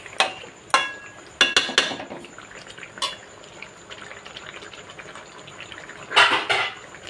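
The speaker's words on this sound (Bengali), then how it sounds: "দেখুন আমি একটু নেড়েছি, আবার চাপা দেবো, আবার নাড়বো" Chicken rezala cooking in a covered pot, stirred with a spoon: a few sharp clanks of the utensil against the metal rim, then a quiet simmering stretch and a final burst of scraping and sizzling.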